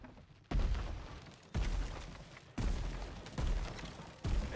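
Cannons on a shield in the video game Clair Obscur: Expedition 33 fire four heavy booming blasts, evenly spaced about a second apart, each with a long rumbling tail.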